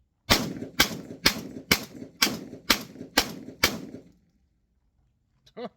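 A Tokarev TT12 shotgun fired from the hip, eight sharp, loud shots in quick even succession, then silence and a brief voice at the end.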